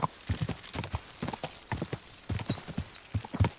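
A horse's hooves clip-clop steadily in the medieval game Kingdom Come Deliverance 2, fast and close in an uneven trotting rhythm, clear and fairly loud with no talk over them.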